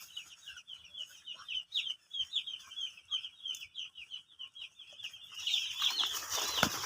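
Chickens cluck in quick, fairly faint repeated calls, then a burst of wing flapping and louder commotion as a hen is caught by hand, with no talking.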